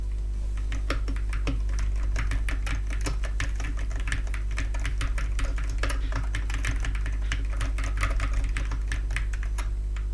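Rapid, steady typing on a clicky AKKO Monsgeek Fun60 Pro 60% mechanical keyboard, close up, with a low constant hum underneath.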